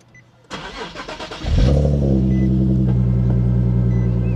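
A Nissan 370Z engine cranks with a quick stuttering whir, then catches and settles into a loud, steady idle rumble close by.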